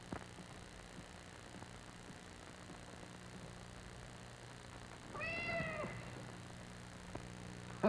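A black cat gives a single drawn-out meow partway through, fairly faint over a steady low hum in a quiet room.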